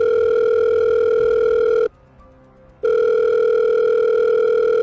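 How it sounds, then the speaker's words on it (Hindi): An outgoing phone call rings unanswered with two long, loud electronic ringback tones separated by a brief silence, steady and close. "अबे ये तो फ़ोन ही नहीं उठा रहा,"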